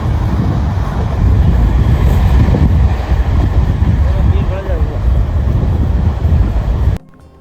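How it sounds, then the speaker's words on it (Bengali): A local passenger train pulls away from the station, a continuous low rumble and rattle of the carriages running along with wind noise, cutting off abruptly near the end. "আমাদের কিন্নার থেকে ট্রেন ছেড়ে দিয়েছে"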